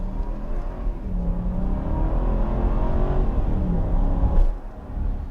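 2022 Jeep Wagoneer Series III 4x4 full-size SUV accelerating hard, engine note rising and building steadily over several seconds from inside the cabin, with a brief bump near the end and no talk.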